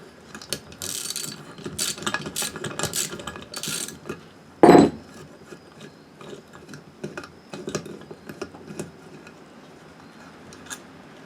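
A ratchet wrench works loose the head bolts on a 6.0L Chevy LS engine's cylinder head, giving runs of quick mechanical clicks with one louder clunk near the middle, close by and without talk.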